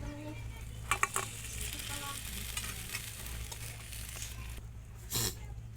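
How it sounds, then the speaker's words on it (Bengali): Deep-fried semolina sweets go into hot sugar syrup and sizzle softly over a steady low kitchen hum, with a couple of brief pan clatters near the start and end. "এবার এগুলো চিনি শিরায় দিয়ে দেবো।"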